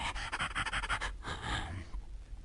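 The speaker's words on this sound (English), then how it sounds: "he saw an old hound lying in the road, gasping and panting." An old hound lying in the road, gasping and panting, probably voiced by a human performer: quick, breathy, ragged pants repeat close and fairly loud for a couple of seconds, then trail off into softer breaths.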